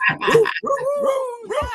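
A dog gives a short burst of yips and whining barks, close and fairly loud, with a drawn-out whimpering note between them.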